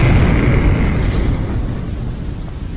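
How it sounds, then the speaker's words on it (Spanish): A huge dynamite blast at a mountain mine site rolls out as a loud, deep, sustained roar that slowly fades over a few seconds. "hubo que estar ahí para creer las dimensiones que tomó aquella explosión"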